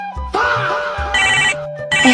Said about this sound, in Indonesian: Bentar, gua angkat telepon dulu.